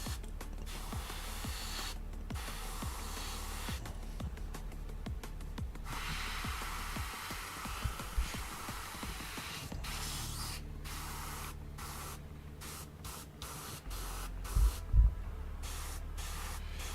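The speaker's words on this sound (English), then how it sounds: "Then when I go to spray it on the part, it doesn't." Spray paint hissing from an aerosol can onto a model part, several close bursts of steady spraying separated by short pauses, with faint handling clicks and no talking.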